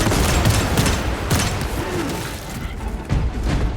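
Frag grenade blasts and gunfire in a Warhammer 40k Space Marine 2 battle against Tyranids, a dense, continuous barrage of loud bursts and booms with sharp impacts near the start, middle and end.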